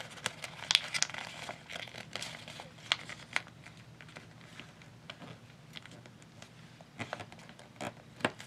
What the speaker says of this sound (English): You can fold in half